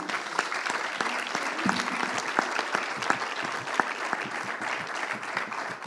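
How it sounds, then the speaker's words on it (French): An audience at the launch event for a critical-thinking laboratory at INSA Rennes gives sustained applause, a dense, even patter of many hands that holds steady for several seconds. "je pense qu'on peut vous applaudir"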